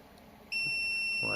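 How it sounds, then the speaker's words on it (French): A solar inverter (UPS) starts a continuous high-pitched beep once its solar input is cut, the tone sounding loud and steady after a quiet start, with a voice beginning to speak near the end. "on va entendre le bip de l'onduleur qui ne détecte plus le solaire"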